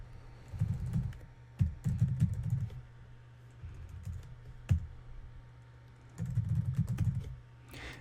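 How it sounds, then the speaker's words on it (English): Bursts of typing on a computer keyboard as a domain name is entered, several quick clusters of keystrokes with pauses between them, fairly close and with no one talking. "you're going to type the domain name that you're transferring here"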